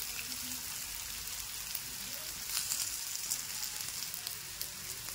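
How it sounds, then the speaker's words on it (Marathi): Vegetables sizzle steadily in hot oil for a quick veg recipe, a continuous crackling hiss with scattered pops, close and moderately loud, with no talking. "अशा पद्धतीने आपण थोडं थोडं करून त्याला फ्राय करून घ्यायचं आहे. हे पहा किती छान फ्राय होत आहे."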